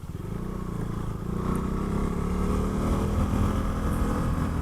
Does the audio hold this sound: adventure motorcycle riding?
yes